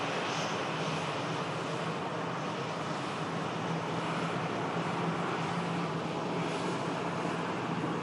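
Airliners at Manchester Airport, a British Airways shuttle and a Sun Express jet bound for Dalaman, taxi out with a steady, distant jet-engine roar that stays even throughout with no talking.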